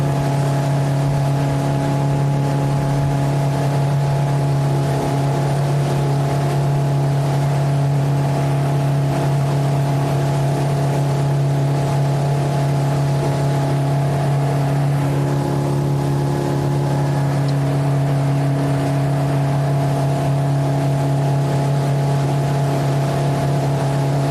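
Motorboat engine near Kemah Marina running continuously at about 10 mph and around 1,100 RPM below normal, a loud, close, unbroken drone with water rush and no talk.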